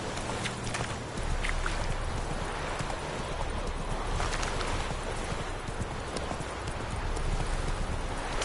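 Hooves of a horse trotting in The Witcher 3: Wild Hunt, a continuous rhythmic clatter blended into a dense, noisy wash of wind and surrounding game ambience.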